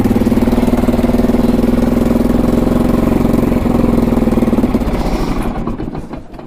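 A Kawasaki 4x4 ATV engine runs steadily with a low, buzzing idle, then sputters and dies away near the end as it runs out of gas.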